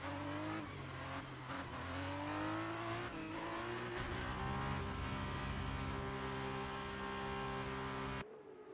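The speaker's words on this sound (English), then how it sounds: "the cars take their positions on the grid" Formula 2 race cars idling and revving together on the starting grid at Silverstone in an F1 career-mode video game, a dense layered engine drone with rising pitch sweeps, steady and loud, no talk.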